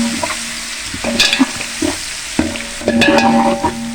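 Garlic-ginger paste sizzles and fries in a large pot for a 4 kg Sindhi chicken biryani, with a steady hiss punctuated by repeated scraping stirs and clanks of the spoon close up, no talking.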